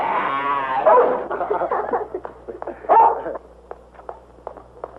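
A dog named Tiger yelps and whines in short bursts, a couple of louder barks standing out among softer whimpers and a few faint clicks, fairly close by in a quiet room.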